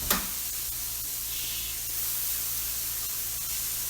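Shrimp laid in a single layer on a hot griddle for keto shrimp and grits, a steady broad sizzling hiss close by, continuous and even from start to finish.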